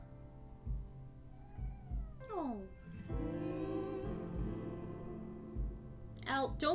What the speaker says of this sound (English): Al, don't meow sadly at me while this song is playing.